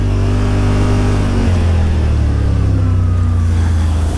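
A Yamaha RMAX 1000 UTV engine accelerates hard, a loud close mid-pitched roar that climbs in pitch, drops at a shift, then rises again steadily, no speech.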